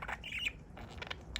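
A pet budgie gives a short, shrill squawk followed by a few softer chirps, quiet and close in a room.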